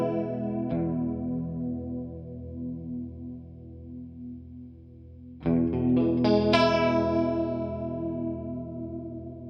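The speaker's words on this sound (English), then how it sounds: "Here it is with the Donner chorus turned on." Electric guitar played through the chorus effect of a Donner multi-effects pedal, with sustained shimmering chords ringing out, fading, then a fresh brighter strum of several chords ringing on, clean and up close with no talking.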